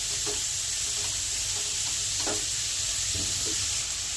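Chopped capsicum sizzles steadily in a hot pan for atta Maggi, with a constant frying hiss and a few soft scrapes of stirring close by.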